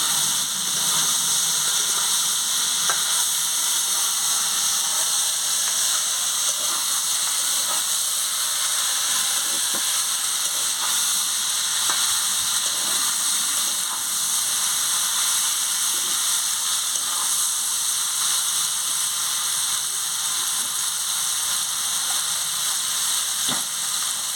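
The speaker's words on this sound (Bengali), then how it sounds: "তুলে নিয়ে ভালো করে আনাজটাকে নাড়িয়ে নিচ্ছি" Vegetables with jackfruit seeds and stalks frying and being stirred in a pan, a loud continuous sizzle and hiss with occasional faint scrapes across a long stretch, no talking.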